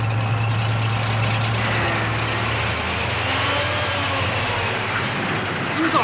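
A tank engine idles steadily in a wartime drama scene, a continuous low rumble with a droning hum that holds loud and even throughout, with no speech over it.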